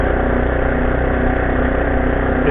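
A Honda CT90 motorcycle engine runs loud and close with the throttle held open, a steady, even mechanical drone that never lets up.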